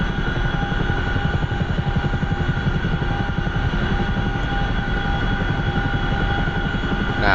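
A CH-47F Chinook helicopter hovers over Afghan terrain in the DCS flight simulator game, its twin rotors thumping in a fast steady rhythm over a constant turbine whine, loud and close with no talk.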